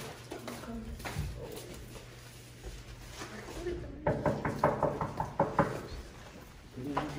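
Knuckles rapping on a college dorm door, a quick series of about eight close knocks in the latter half, preceded by quieter talking and movement.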